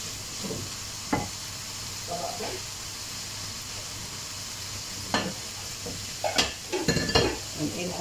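Fajita chicken sizzles in a pan with scrapes and clinks of stirring, a steady fry under a speaking voice, with stirring strokes growing busier toward the end.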